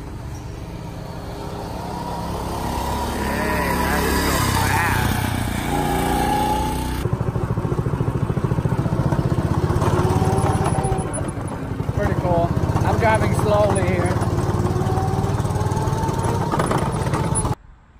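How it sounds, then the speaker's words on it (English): Small go-kart engine at a family fun park track, droning steadily and fairly close for the whole stretch, with a person talking over it. "This is one of the go-kart that you can use to race."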